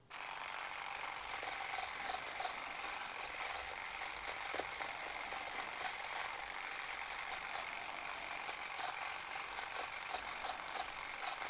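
A Klixer dreadlock machine runs continuously with a steady, bright mechanical whirring rattle, alone and at even loudness throughout.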